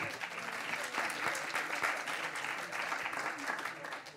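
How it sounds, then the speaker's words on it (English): Warm, sustained audience applause for a panel at an OECD and EU Commission cross-border governance event, dense and steady with faint voices mixed in. "I would like to ask for a very warm round of applause for an excellent panel"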